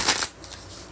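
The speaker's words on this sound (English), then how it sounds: "I'm going to shuffle the deck and get you a bonus card." A tarot card deck gets shuffled in one quick riffling burst at the start, close and crisp, then fades to quiet room tone.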